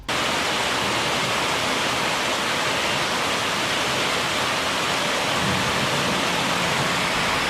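Heavy rain pours down steadily as a dense, unbroken roar with no pauses from start to finish, in Shiggaon, with rainwater running over the road instead of the drains.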